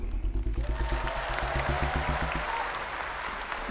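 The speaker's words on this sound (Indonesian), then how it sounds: "Tepuk tangannya kurang semangat." A crowd at a Gerindra party anniversary event claps in rhythmic, unified beats that start strong, then thin into scattered, fading applause.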